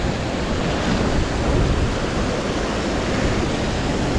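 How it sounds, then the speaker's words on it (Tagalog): A strong river current rushes by as a loud, dense, steady roar of churning water close to the microphone, unbroken for the whole stretch. "Malakas ang agos."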